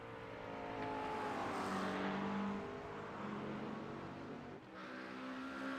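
McLaren race cars at Oulton Park circuit, engines droning loudly and steadily nearby, pitch rising and falling as they pass, with a brief dip near the end before the roar returns.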